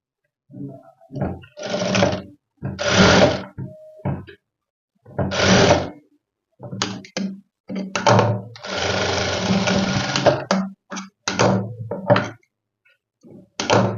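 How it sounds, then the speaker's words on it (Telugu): A sewing machine stitches a hook-and-eye strip onto a blouse in a series of short loud bursts of rapid mechanical whirring, close up, separated by pauses and one longer continuous run. "ఇప్పుడు ఏం చేస్తామంటే ఈ రెండింటిని కలిపి ఓ స్టిచ్చింగ్ వేసేస్తాం"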